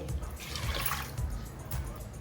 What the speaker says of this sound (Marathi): इथे मी डाळ कुकरमध्ये लावते डाळ घेतले त्या ग्लासाने मी चार ग्लास पाणी ओतते